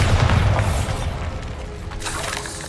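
A Bombarda blasting spell detonates in Hogwarts Legacy with a loud, deep boom that rolls off into a rumbling, crackling tail of debris over a couple of seconds.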